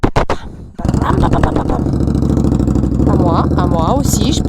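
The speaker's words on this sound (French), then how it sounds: "On va faire de la moto." A motorcycle engine starts after a few sharp knocks and settles into a loud, steady mid-pitched idle running close by, with voices talking over it.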